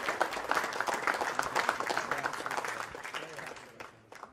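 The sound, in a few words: audience applause for poker tournament winner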